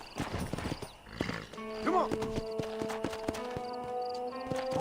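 A horse in Red Dead Redemption 2 gives a loud, close neigh, a wavering whinny that rises and falls, followed by a long sustained tone. Softer hoof clops and game sounds sit beneath it, and there is no talk.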